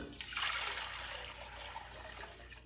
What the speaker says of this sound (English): in a saucepan, I want to take 6 cups of chicken broth and a cup of water